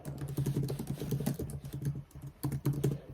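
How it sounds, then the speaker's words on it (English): Quick bursts of typing on a computer keyboard, close and fairly quiet, with irregular clusters of key clicks and brief pauses. "let me type it out actually"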